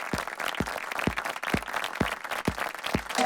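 At an awards ceremony, applause from the audience sounds moderately loud with several sharp claps standing out in a steady rhythm over a thinner wash of clapping hands.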